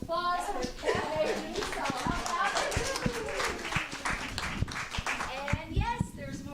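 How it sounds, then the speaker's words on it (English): An audience at a Sunday church celebration claps steadily for several seconds, the scattered hand claps mixed with cheering voices and chatter, including children. "Round of applause for Kat."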